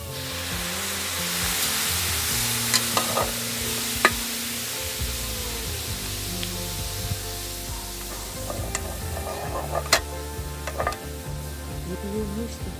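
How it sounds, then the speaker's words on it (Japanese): Shrimp steam-frying in a pan, a steady close sizzle running the whole time, with scattered light clicks and knocks of stirring or moving the food. "エビを蒸して蒸し焼き。"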